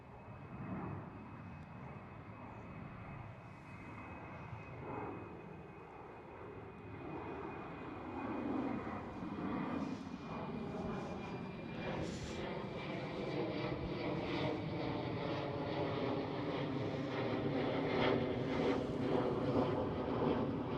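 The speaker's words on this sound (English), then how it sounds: "There goes the next E190." An Embraer E190 jet passes high overhead near Schiphol, Amsterdam, a steady broadband engine roar that slowly swells and shifts in pitch over about twenty seconds, heard alone without voices.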